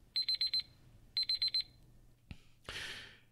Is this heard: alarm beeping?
yes